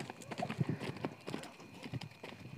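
A stallion shifts and steps close by, its hooves making irregular clip-clop knocks with some rustling movement, while faint voices murmur in the background.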